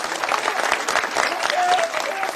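A crowd at a political rally in Parli claps during a speech, dense continuous applause holding steady and loud throughout.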